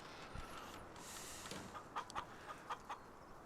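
Chickens clucking in a farm simulator game, a few short clucks spaced through the second half over a low steady background hum, with no talking.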